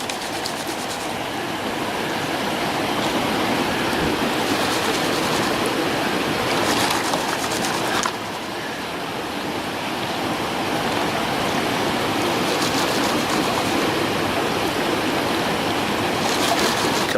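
Water swishing and sloshing as gold is panned in a slot canyon, a continuous rushing wash with repeated splashy surges and a brief dip midway, close and loud, without speech.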